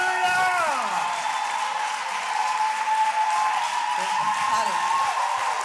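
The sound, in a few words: applause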